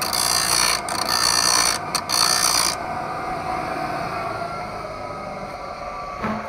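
A 30-inch length of PVC pipe has its end sharpened, producing a loud, continuous grinding roar up close that shifts to a slightly lower, steadier drone partway through.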